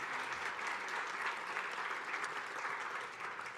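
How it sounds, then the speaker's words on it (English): Audience at a livestreamed charity benefit event for the Road Home gives a round of applause, dense and even clapping throughout with no voices over it. "So a round of applause for them."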